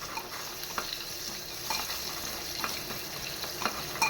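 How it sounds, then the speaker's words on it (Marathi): Dried chilies, curry leaves and asafoetida crackle in a small pot of hot oil for a dhokla tempering, a steady close sizzle broken by sharp pops and a few stirring scrapes. "छान मिरची, कढीपत्ता तडतडतो आहे"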